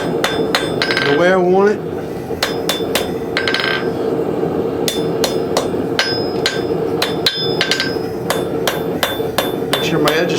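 Hammer blows ring on steel while a woodcraft tool is forged and its edge flattened, sharp metallic strikes coming in quick irregular bursts with short pauses, close and loud, a brief spoken remark near the start.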